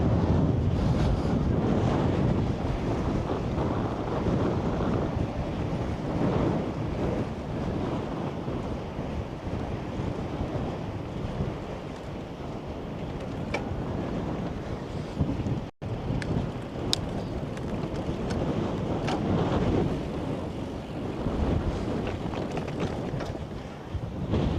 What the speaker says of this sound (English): because it's a good wind